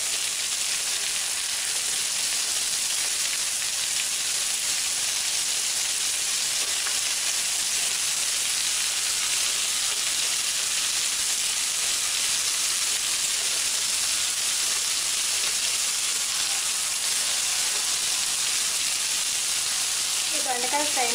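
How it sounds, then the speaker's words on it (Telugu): Ivy gourd (gherkins) and coconut fry sizzles loudly and steadily in an open pan for the whole stretch, with a broad constant hiss and faint ladle scrapes of stirring near the end. "ఇప్పుడు గరిటెతో బాగా కలుపుకోవాలి."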